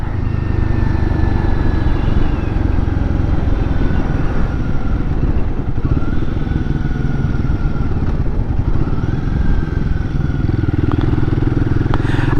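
A Royal Enfield Guerrilla 450 motorcycle fitted with a BMC air filter, ridden along with a steady, loud engine drone close by, holding an even throb throughout with no talking.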